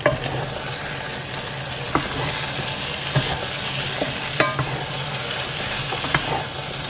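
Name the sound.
palm nut cream cooking in a pot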